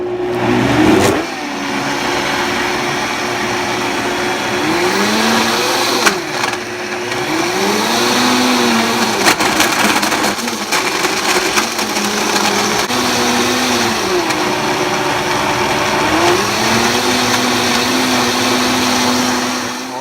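A blender runs continuously while making a green smoothie, its motor whirring loudly with rising and falling pitch as the contents churn and catch.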